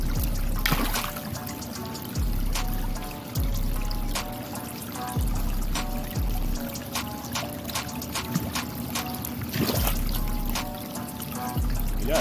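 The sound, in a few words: water poured during aquarium tank water change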